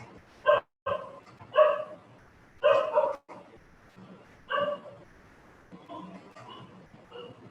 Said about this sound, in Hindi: क्या आपसे तेज आवाज पीछे कुत्ते की आ रही थी सर, उसके भौंकने की।